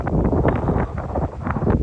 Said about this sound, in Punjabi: ਦੇਖੋ ਹਵਾ ਚੱਲਦੀ